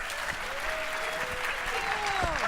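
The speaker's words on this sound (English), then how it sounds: "We now also need to have a big round of applause for Dan and Corey, the co-chairs of the event today." Audience applause at an event in Oakland honoring the co-chairs, a steady dense wash of clapping at moderate level with a few whoops or voices rising through it.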